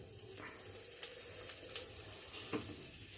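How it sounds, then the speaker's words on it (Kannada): Cumin seeds, curry leaves and asafoetida sizzle and spit in hot oil for a mango pickle tempering, a soft continuous crackle with a few sharper pops, fairly quiet and close, with no talking. "ಈಗ ಒಂದು ಚೂರಿ ಜೀರಿಗೆ ಹಾಕ್ತಾಯಿದ್ದೀನಿ ಕರಿಬೇವು ಹಾಕ್ತಾಯಿದ್ದೀನಿ ಇವಾಗ ಇಂಗು"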